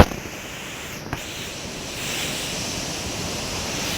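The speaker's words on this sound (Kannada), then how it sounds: "ಆ ಅಲೆಗಳ ಸೌಂಡ್ ಇದೆಯಲ್ಲ, ಅದಂತೂ ಇನ್ನೂ ಚೆನ್ನಾಗಿತ್ತು" Ocean surf rolls and washes steadily onto a beach in monsoon weather, a continuous broadband roar that swells slightly louder toward the end, with some wind noise on the microphone and no voices.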